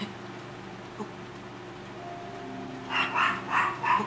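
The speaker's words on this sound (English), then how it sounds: "sorry about the dogs barking again" Dogs bark in a house, about four quick, fairly distant barks packed into the final second after a stretch of quiet room hum.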